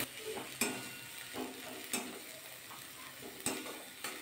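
Cooked chicken filling with coriander leaves gets stirred in a pan, a faint background sizzle punctuated by sharp, spaced clinks and scrapes of a spoon against the pan.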